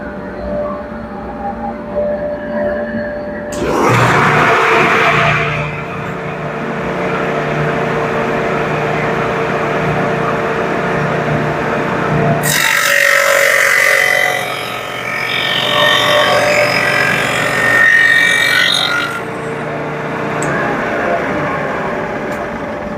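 A Shopsmith with a stacked dado set and L-fence cuts a cross-grain rabbet in wood, a loud steady machine whine and cutting roar that starts, runs, eases and surges again, with no talking.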